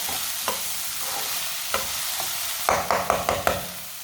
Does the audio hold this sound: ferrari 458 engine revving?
no